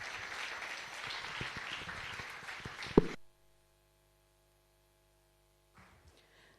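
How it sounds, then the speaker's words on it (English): A school debate competition audience applauds the moderator and judges in a steady burst of clapping for about three seconds, ending in a sharp final clap. Near silence follows, then faint rustling. "I request you to give a big round of applause to our moderator and"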